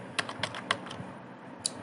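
Quiet, close typing on a computer keyboard, a short run of irregular light key clicks with small gaps, no voice.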